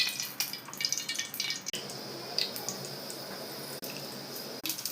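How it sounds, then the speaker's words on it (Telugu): Cut amaranth leaves being washed by hand in water, a close splashing and trickling with brief pauses as the leaves are swished and lifted, no voices. "కట్ చేసి పెట్టుకున్న వాటిని ఇలాగా వాటర్లో వేసుకొని క్లీన్ చేసుకోవాలి"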